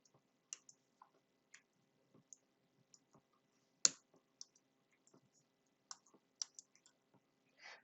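Computer keyboard keys pressed one at a time during coding, the sticky comma and period keys included, giving sparse, irregular clicks at close range with no talking.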